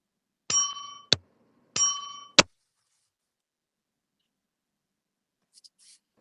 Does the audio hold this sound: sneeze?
no